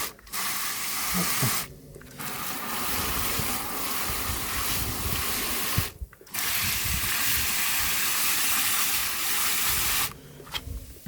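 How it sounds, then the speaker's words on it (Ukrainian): Water gushes into a large flower pot in a garden, a loud, steady rushing hiss broken by two brief pauses. "О, і такий от горшок такий маю великий. Зараз наберу води."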